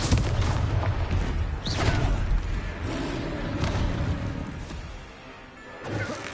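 Explosive spell blasts from combat in Hogwarts Legacy: a run of booming impacts and crashes with whooshing bursts, loud and continuous, easing off briefly before a final hit near the end.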